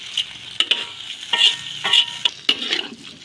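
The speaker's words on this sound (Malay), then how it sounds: "Kita goreng sekejap." Uncooked rice being stir-fried in a pot for nasi arab, with a steady sizzle and repeated scraping stirs of the utensil against the pot, close and fairly loud.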